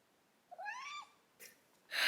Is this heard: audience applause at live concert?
no